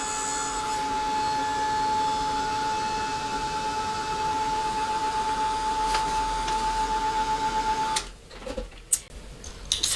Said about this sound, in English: So I'm going to hit it with my little heat gun.